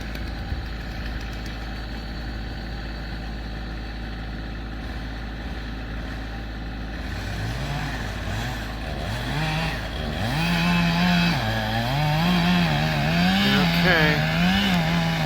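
A chainsaw with freshly sharpened blades is used for tree removal on a property, first a steady low drone, then the engine revving up and down in rising surges, loud and close, with a voice talking early on.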